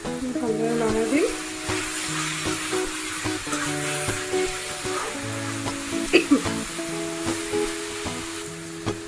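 Colocasia greens and chicken sizzle and fry in a pan while being stirred, giving a steady close crackle with scraping strokes and a couple of louder knocks near the end.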